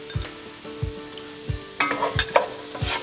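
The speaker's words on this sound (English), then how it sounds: "So I'm going to add the carrot" Carrots go into sizzling onions in a pan for a spiced pilaf and are stirred, with five evenly spaced low scraping strokes over a steady frying hiss and a brighter clatter toward the end.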